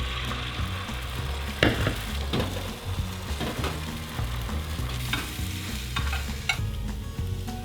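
Egg beaten with a whole can of water-packed tuna and a teaspoon of mayonnaise sizzles steadily in a rectangular tamagoyaki pan, a continuous close frying hiss broken by occasional scrapes and taps of a utensil, with no talking.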